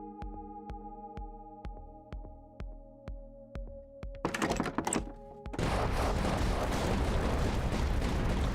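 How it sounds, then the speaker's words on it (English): Missiles launch in the tower defense video game Tower Dominion: a steady series of sharp thunks with rising tones, then a dense burst of launches swelling into a loud, sustained roar of rocket exhaust. "The missiles go."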